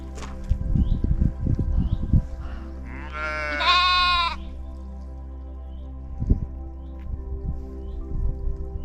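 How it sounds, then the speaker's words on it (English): A sheep gives one clear, wavering bleat close by on a rocky hiking trail. Footsteps crunch on stones before and after it, and a steady low hum runs underneath. "I love sheep."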